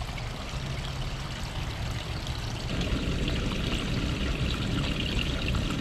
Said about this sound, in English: And a little waterfall.